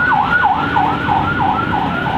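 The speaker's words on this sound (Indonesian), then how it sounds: "ada ambulan lewat" An ambulance siren wails in a fast, repeating up-and-down sweep, loud and close, over a steady road rumble with no talking.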